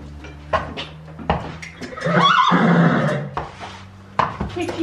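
A horse being ridden lets out a clear whinny that rises and falls for about a second, close and loud, between scattered quieter rustles and movement sounds.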